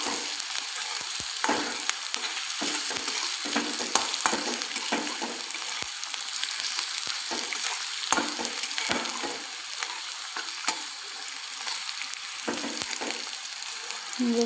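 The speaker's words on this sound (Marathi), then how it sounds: "मी तो कांदा टाकून घातलेला आहे आणि छान असं मिक्स करून घेणार आहे, परतून घेणार आहे" Chopped onion sautéing in oil for kanda poha: a steady, close hiss of frying punctuated by frequent spatula scrapes and stirring knocks throughout, without any talking.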